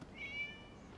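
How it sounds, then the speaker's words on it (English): A single faint, high, drawn-out meow from a cat in the video game Genshin Impact, short and alone against a quiet background. "It was just a cat."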